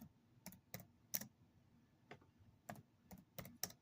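Computer keyboard typing in a quiet room, a handful of sharp separate keystrokes spaced irregularly over a few seconds, faint and close.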